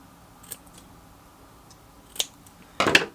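Scissors snip through a piece of material for a model bunker wall, a couple of short faint cuts followed by a louder, sharper snip at the end, with no voices.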